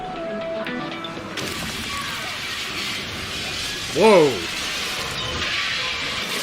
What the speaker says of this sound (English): She crashed the bus through.